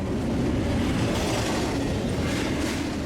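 A BNSF freight train rolls through Fullerton in Southern California, producing a continuous heavy rumble and steady wheel roar at close range for the full few seconds, with no talking.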